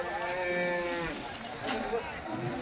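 A Murrah buffalo at a large buffalo market gives a drawn-out low moo under steady crowd murmur and background market noise, moderately close.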